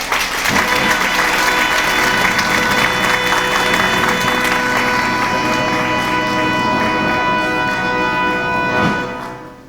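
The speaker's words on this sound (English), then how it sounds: "I trust the moderation of your applause really means you're saving it up beautifully" A theater audience at a community stage production applauds for the introduced actors, a full, continuous wash of clapping that holds steady for several seconds before cutting off abruptly at the end.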